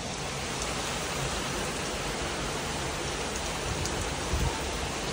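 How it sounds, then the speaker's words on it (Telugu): Heavy summer rain pours steadily in Kokapet, a dense, constant wash of noise with no breaks and no voices. "ఫుల్ వర్షం పడుతుంది"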